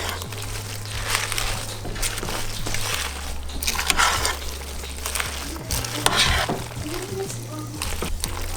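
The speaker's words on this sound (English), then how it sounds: "I'm just gonna let this sit over the heat and let this spinach wilt" Spinach wilts in a hot pan in a home kitchen, with close scraping and stirring and a soft, steady sizzle over a low electrical hum throughout.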